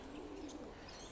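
Racing pigeons in heavy moult coo softly in a coop. Faint, low murmuring coos sit under steady background hiss, with no talking.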